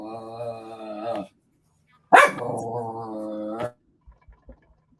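A dog indoors gives long, drawn-out tonal growl-whines close by, two sustained rumbling groans separated by a pause, followed by a few soft thuds.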